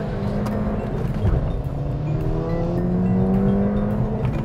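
A Ford Fiesta ST manual hot hatchback with 182 horsepower launches hard, its engine roaring loud and close as the revs climb steadily through a gear with a brief shift break early on.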